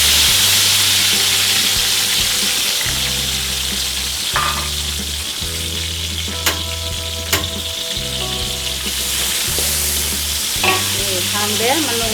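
Small chopped tomatoes frying and stirred in a pan for tomato sambal, a loud steady hiss under a strong low droning hum, with occasional sharp clicks of a utensil, no talk.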